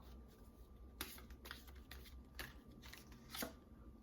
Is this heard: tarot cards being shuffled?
yes